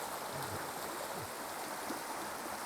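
River water flows steadily close by, a continuous broadband rush and burble with no pauses and no voices.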